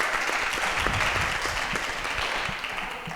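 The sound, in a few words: applause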